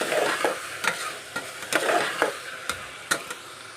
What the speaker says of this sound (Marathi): छान नरम होईपर्यंत हे परतून घ्यायचे आहेत भाज्या